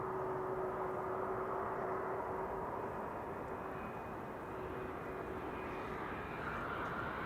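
United Airlines airliner arriving at Amsterdam Schiphol Airport from San Francisco, a steady broad jet roar with a faint whine held for the whole stretch, fairly distant and constant, with no voices over it.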